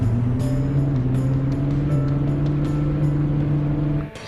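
A steady engine drone in the video game Egg Fried Rice holds throughout with a low humming tone and faint rising pitch, like a car driving slowly, before it drops away at the end.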